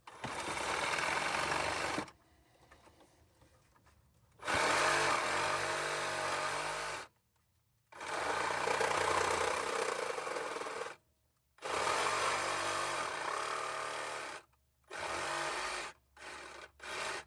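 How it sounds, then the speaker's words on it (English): Exhaust flex pipe on a 2014 VW Passat 2.0 TDI being cut with a power tool, giving loud sustained grinding and rasping bursts of a few seconds each, separated by brief pauses and quieter stretches. "So definitely cut the flex pipes if you have to."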